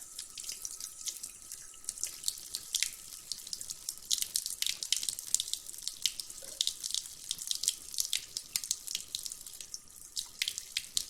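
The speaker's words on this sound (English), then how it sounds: "we're going to put enough water in our graduated cylinder to completely cover our metal strips." Tap water runs steadily into a graduated cylinder at a lab bench, a continuous splashing stream with small drips, close and moderately loud, no talking over it.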